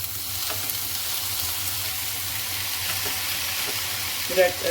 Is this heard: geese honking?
no